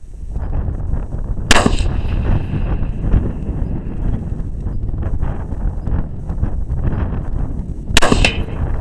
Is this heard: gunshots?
yes